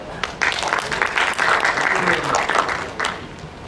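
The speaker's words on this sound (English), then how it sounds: "Please give them a warm applause." An audience at an academic computer science conference applauds a keynote speaker, uneven clapping that swells and dips over a few seconds while a voice speaks over it.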